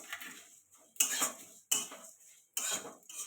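Cumin, panch phoron and fenugreek fry in a pan for a pickle, heard as several separate bursts of crackling sizzle and spoon scraping, each a fraction of a second, with short pauses between them.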